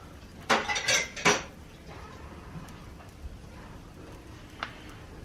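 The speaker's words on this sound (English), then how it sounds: "I'm just going to use this knife that I used. I don't think there's a point in using something else to stir it around" A knife stirs morel mushrooms in a cast iron pan, giving a few quick metallic scrapes and clinks near the start before fading into quiet, faint background with one last light tap.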